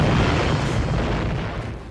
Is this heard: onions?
no